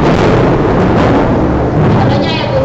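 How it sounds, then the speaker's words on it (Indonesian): Heavy rainstorm with a loud, continuous roaring wash that could be rumbling thunder, close and dense, filling the whole moment without a break. "suara ibu ketutup sama suara hujan dan suara petir karena sedang hujan."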